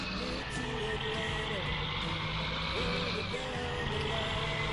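A truck reversing in Farming Simulator 19 gives off steady repeating warning beeps over a constant engine drone, clear and close, with a voice talking in the background.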